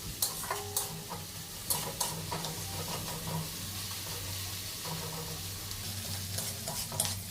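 Onion fries in oil in a kadai with garam masala and bay leaf: a continuous soft sizzle with repeated stirring scrapes and light clinks of a spatula, fairly quiet and close, no voices.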